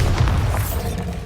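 Bombarda blasting spell detonating in Hogwarts Legacy, a single loud, close boom with a low rumbling body that fades over about a second.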